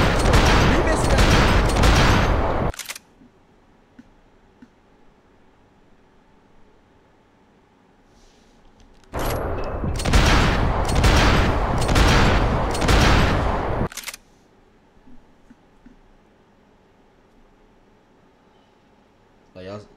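Max Payne 3 gameplay gunfire: two long stretches of loud, dense automatic shooting, the first opening the stretch and the second in the middle, separated and followed by quiet.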